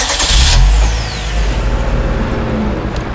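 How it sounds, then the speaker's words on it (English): A truck engine pulls away, starting with a loud low rumble and revving that settles into a steady mid-pitched drone as it moves off. No one speaks. "Truck, take the wood away."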